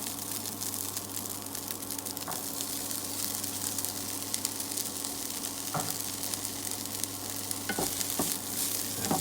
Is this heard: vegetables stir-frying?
yes